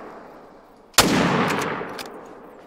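A single hunting rifle shot in theHunter: Call of the Wild, a sharp loud crack followed by a rolling echo that tails off over about a second and a half, against a quiet outdoor background.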